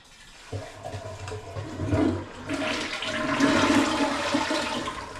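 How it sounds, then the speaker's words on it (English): A toilet flushes close by: a sharp lever clunk, then a loud rushing swirl of water that builds and keeps draining to the end. "You gotta flush it with the..."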